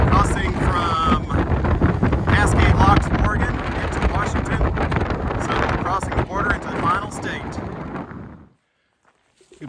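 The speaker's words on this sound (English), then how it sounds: "It's very windy up here" Strong wind buffets the microphone on the Bridge of the Gods, crossing from Cascade Locks, Oregon, into Washington, loud and roaring throughout before cutting out near the end; a voice talks under the gusts.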